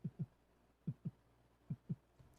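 A beatboxer imitates a heartbeat with the mouth, making soft low thumps in three evenly spaced double-beat pairs, close and quiet with no talking.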